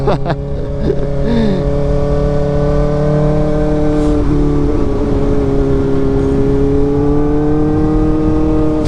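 A Kawasaki Ninja ZX-4RR motorcycle engine runs at sustained high revs while riding, a loud close whine holding steady with slight pitch shifts throughout.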